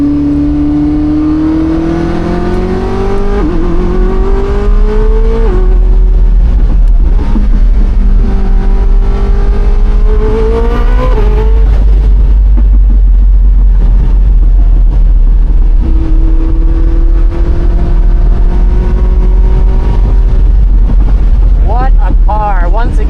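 Koenigsegg Jesko Attack hypercar driven hard on a race track, heard from inside as the engine revs climb repeatedly through gears in loud rising sweeps over heavy wind and road roar.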